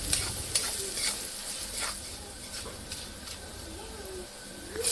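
Crushed garlic with salt and turmeric powder sizzling in a pan while a utensil stirs and scrapes in uneven strokes; close and moderately loud, with a faint bird chirp in the background and no speech.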